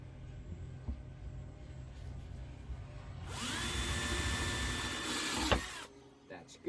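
A power drill bores a 1/4 inch pilot hole while fitting a sliding retainer for Gladiator Gear Track, starting abruptly as a loud steady whine for about two seconds, then cutting off with a clunk amid quiet room noise.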